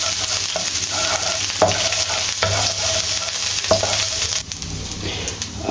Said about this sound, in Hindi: इसके अंदर हमने कुकिंग ऑयल हल्का सा डालना है, हाफ टी स्पून लहसुन का पेस्ट डालना है इसके अंदर